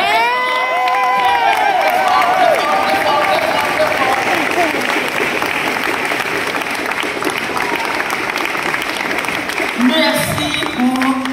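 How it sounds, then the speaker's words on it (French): An audience applauds warmly for a long stretch, sustained clapping mixed with cheers, whoops and some children's shouts, while voices talk over it. "on applaudit très bien"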